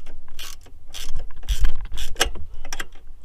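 A ratchet wrench tightens bolts under the hood of a 2007 Grand Prix GT, giving close, loud bursts of quick clicking with short pauses between strokes.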